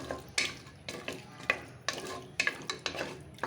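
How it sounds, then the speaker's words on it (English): Bone-in mutton frying in a pan, stirred with a utensil: rhythmic scraping strokes about twice a second over a soft sizzle, close and fairly quiet. "300 grams of mutton with the bone. And let this fry a bit."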